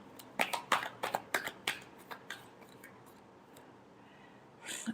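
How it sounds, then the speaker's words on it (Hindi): Tarot cards being shuffled, a quick run of sharp papery riffles and flicks in the first two seconds, then a few sparse softer taps and a rustle at the end, close and alone. "Last shuffle."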